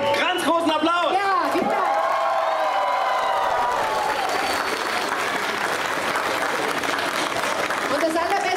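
Audience applause at the BraWo Marathi Mandal Indian dance show at the Braunschweig International 2024 festival: a sustained, loud crowd clapping with a few cheers, following a singing or shouting voice at the start.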